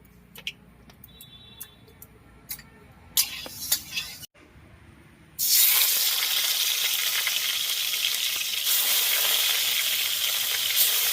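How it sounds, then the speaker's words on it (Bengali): River-caught madhu bhola fish, about 800 grams, frying in hot mustard oil in a wok. A few faint clicks come first, then a loud, dense, steady sizzle fills the rest of the clip with no talk. "এবার মাছটা ভেজে নেব। এই সরষের তেলেই রান্নাটা করব।"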